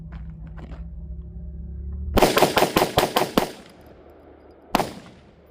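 A rifle fires polymer-cased 5.56 ammunition in a quick string of seven loud, sharp shots at close range, with a low hum before the shots and one more crack after a short pause.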